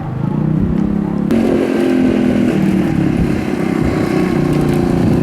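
Gen 5 IceBear trike with a small-bore engine and a baffle fitted, close and loud, revving up from a steady drone into a higher sustained buzz with slight pitch wavers.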